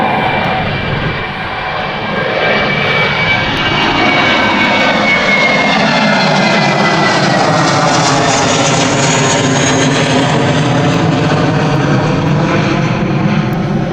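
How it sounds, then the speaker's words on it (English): A loud, close fixed-wing airliner roars steadily at Gatwick airport as it lands, with a sustained engine drone and a slowly shifting whine throughout. "So we now got to land all of these aircraft."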